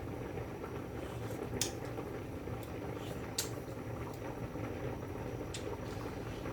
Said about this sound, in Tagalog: kulong-kulo na yung ating niluluto